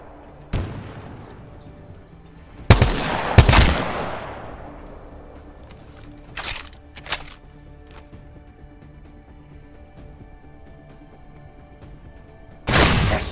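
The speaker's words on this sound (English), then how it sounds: "They're shooting at me!" Gunfire in Apex Legends rings out in several sharp bursts, single cracks and quick double shots spaced across the stretch, loud against a quiet background with long gaps between volleys.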